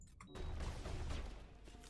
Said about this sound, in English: There's a giant explosion behind me.